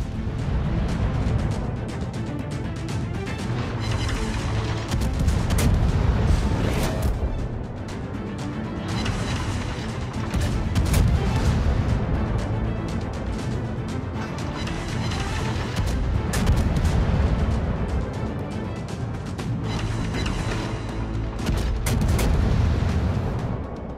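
Naval artillery in a warship video game, heavy cannon blasts and crashing impacts rolling continuously under a dense, loud battle din with music-like layers throughout.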